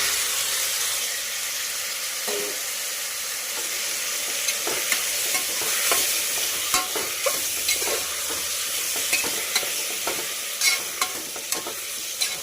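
Tomatoes are stirred in a frying pan, giving a continuous soft sizzle and hiss with a spoon scraping and knocking lightly against the pan at intervals, close by and without talk.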